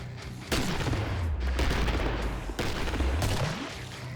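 Gunfire in the video game Killing Floor, loud close shots with booming reports, one near the start and a heavy second burst later, each trailing into rumble, with no talking.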